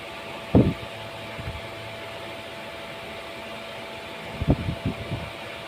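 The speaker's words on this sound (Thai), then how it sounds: "อย่างน้อยเราก็มีพัดลมตัวใหญ่" Large electric fan hums steadily through a night scene, broken by a couple of brief knocks or thumps.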